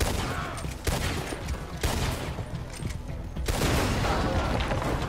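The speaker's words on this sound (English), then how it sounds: "I'll just shoot my pistol." Pistol gunfire in the Red Dead Redemption 2 video game: several loud shots crack at roughly one-second intervals over busy background game noise.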